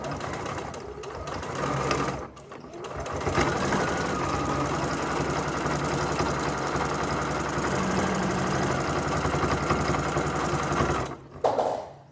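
A sewing machine runs at a steady fast hum while redoing the elastic on old worn shorts, stitching almost continuously with brief pauses near the start and end.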